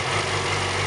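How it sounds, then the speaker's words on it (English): A stock-exhaust 2007 Yamaha R6 600cc sport bike idles steadily up close, a low continuous engine rumble with a smooth, even drone and no talking. "Okay, so the bike is now running."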